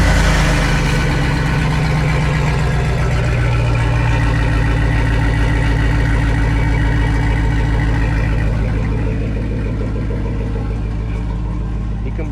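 A GMC truck engine fitted with Scat Pack mufflers rumbles loudly and steadily at idle just after starting, a deep, continuous exhaust drone that holds close and strong throughout.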